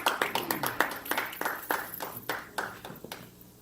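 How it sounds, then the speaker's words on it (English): A church congregation claps for the First Lady with a run of fairly rhythmic, sharp hand claps that fade toward the end, with speech mixed in. "Give her a hand clap of praise this morning."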